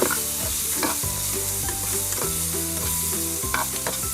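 Shrimp fry in hot oil in a pan over high flame, a constant loud sizzle with clinking stirring strokes, and the utensil scrapes and taps the pan at an irregular pace.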